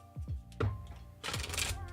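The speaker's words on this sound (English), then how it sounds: "These are like the easiest cards on the planet to shuffle" Tarot cards shuffled by hand nearby, a few quick riffling bursts and soft slaps, with a louder flurry midway.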